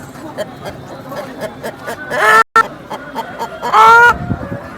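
A rooster crows twice at a rooster market in Nallapadu, two loud, close, drawn-out calls standing out against the busy chatter and clucking of the market.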